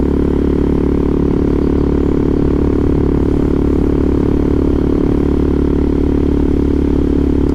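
Steady motorcycle engine drone while riding on Michelin Road 6 tyres, held at an even, moderate throttle through a bend with no revving, loud and continuous throughout with no talk.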